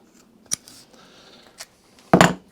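Scissors snip a lawn mower recoil starter rope after it is knotted, giving two light clicks and then one sharp, louder cut at the end, close and with no talk.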